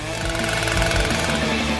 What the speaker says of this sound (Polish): Naprawię to z moją piłą łańcuchową.